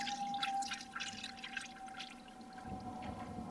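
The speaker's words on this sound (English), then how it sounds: "That's the oil draining out." Motor oil drains from a 2014 Harley-Davidson V-Rod Muscle in a steady, faint trickle and drip close by, with a thin steady hum in the background.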